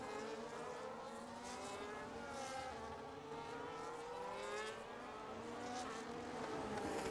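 Several race-car engines in a Formula One video game drone steadily at Singapore's hairpin, cars running nose to tail, with overlapping whining tones that rise and fall continuously and no voices.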